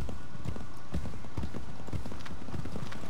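Horse hooves clip-clopping in the video game Assassin's Creed 3, a steady rhythmic trot of hoof beats, close and clear over a constant background bed.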